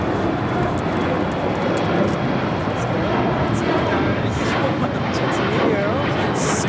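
Singapore Airlines airplane at LAX, a steady broadband jet engine roar heard at a distance while people talk over it.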